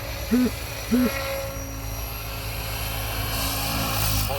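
An SAB Goblin 570 6S RC helicopter whirs steadily at a distance as it comes in to land in autorotation, a sustained broadband rotor hiss with two brief tonal beeps near the start.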